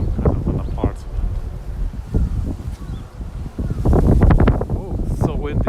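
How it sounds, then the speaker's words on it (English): Gusty wind blowing outdoors in winter Tokyo near apartment buildings and mulberry trees, loud rumbling buffets on the microphone that swell toward the end, with a person speaking briefly over it. "Oh, so windy."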